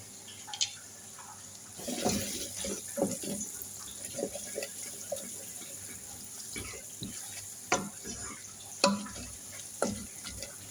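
Potato alicha ingredients with turmeric and a little berbere sizzle and hiss in a pan, with scattered louder sputters and clicks over a steady background hiss, no talking.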